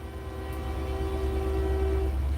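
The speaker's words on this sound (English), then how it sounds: "Train coming by, that's a train horn." A passing train sounds one long, steady horn blast lasting about two seconds over a deep, continuous rumble of the train rolling by close at hand, with no talk.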